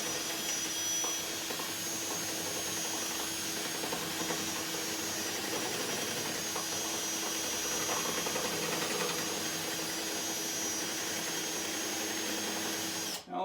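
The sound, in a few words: Porter Cable 20-volt cordless drill running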